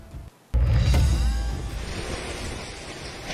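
Heavy typhoon rain and strong wind in Isabela as Typhoon Paulo hits, a loud, broad roaring wash with a sudden blast of wind buffeting the microphone, then a sustained, slightly softer downpour.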